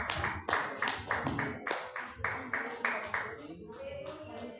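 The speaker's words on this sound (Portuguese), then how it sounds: "as palmas para Jesus, igreja." A church congregation claps in steady unison, about two claps per second, then the rhythm loosens and fades as a voice talks over it.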